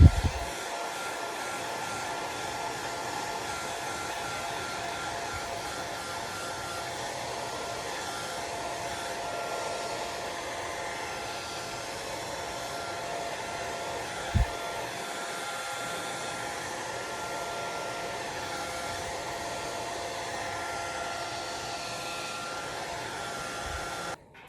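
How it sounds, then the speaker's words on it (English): A hair dryer on its low setting blows over wet Mod Podge on a rolling pin craft, a steady close whooshing hum that runs without a break, with one brief knock partway through. "And now I'm gonna blow dry. I'm on low."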